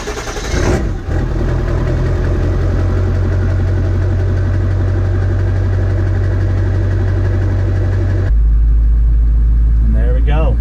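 A Ford F250 with a 7.3 Powerstroke diesel cranks and fires, then settles into a loud, steady, rattling idle up close. Someone talks briefly at the end.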